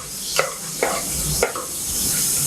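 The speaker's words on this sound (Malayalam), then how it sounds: "പച്ചക്കറി അരിഞ്ഞത് ഒന്ന് വഴറ്റിയാൽ നല്ല ടേസ്റ്റ് ഉണ്ടാവും ചോറിനകത്ത്" Chopped vegetables sauté in oil with curry masala for a quick veg pulao. A continuous frying hiss runs under a few brief scraping stirs. There is no speech.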